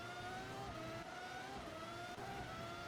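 Race car engines in the Automobilista sim racing game howl steadily through a 2.9-second stretch, with layered high-revving tones shifting pitch as cars hold power side by side. No voices are present.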